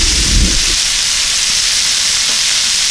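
Steak sizzling on a wood stove inside a teepee tent, a loud, close, steady hiss and crackle of frying meat that begins just after a brief low thump.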